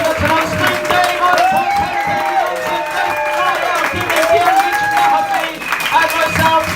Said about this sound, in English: Keep your round of applause